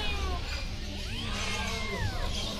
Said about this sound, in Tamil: இவ்வளோ சாதுவான பூனைகள்.